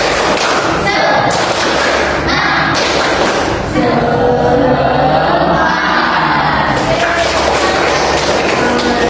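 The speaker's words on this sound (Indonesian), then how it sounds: "Tepuk semangat." A class of schoolchildren performs a rhythmic spirit clap during a micro-teaching lesson, loud bursts of patterned clapping and thumps mixed with children's shouts and chanting voices.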